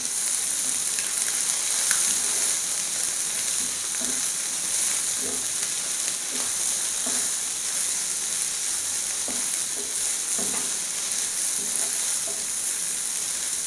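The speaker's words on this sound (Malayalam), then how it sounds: "ഇനി നമുക്ക് ഈ ക്യാബേജും മുട്ടയും കൂടി നല്ലപോലെ ഒന്ന് മിക്സ് ചെയ്യാം" Shredded cabbage and fried egg are stir-fried together in a pan for a cabbage egg fry, giving a continuous bright sizzle with irregular scraping and tossing taps from a spatula throughout, close and steady.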